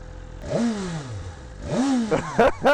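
BMW S1000RR sport bike engine, a 2025 model, revving in two strong rising-and-falling sweeps and then a few sharp blips, close and loud with no talk.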